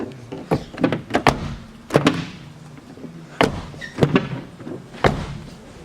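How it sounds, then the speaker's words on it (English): A stuck rear door on a used Saab car being forced, with repeated sharp thunks and rattles of the handle and latch spaced irregularly, close and loud. "Back door doesn't want to open."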